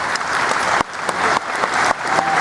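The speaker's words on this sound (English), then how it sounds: "That's surefire applause." A burst of enthusiastic clapping from a Star Trek convention audience, dense and continuous, with brief dips as the applause swells again.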